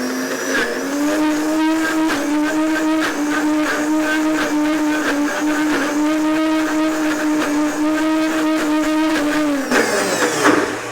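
A food processor running steadily on a high speed setting to blend a thick nut-free, vegan satay dip: a loud, sustained whirring motor hum for about ten seconds, then it winds down near the end.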